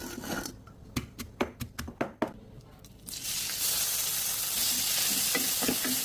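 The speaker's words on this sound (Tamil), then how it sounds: "உரிச்ச சின்ன வெங்காயம் 50 கிராம் சேர்த்து வதக்கிட்டு" Peeled small onions, shallots, sautéing in sesame oil in a pan, a steady loud sizzle that swells after a few sharp clinks and stirring knocks of the utensil at the start.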